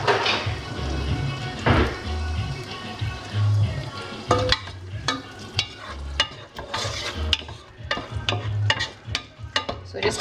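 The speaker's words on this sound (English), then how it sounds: "gonna let that simmer down" Seafood cooks in olive oil and butter in a pan, giving a soft, close sizzle broken by irregular stirring scrapes and sharp clanks of a utensil against the pan.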